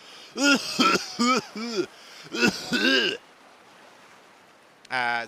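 A man fakes a few rough coughs and throat-clearing sounds in quick bursts during a dating-sim game stream, close to the mic, followed by a short pause and a brief voiced sound.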